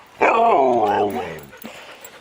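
A sled dog lets out a single drawn-out, whining bark-howl that rises and falls for about a second, close to the microphone and loud, then trails off with a faint yip.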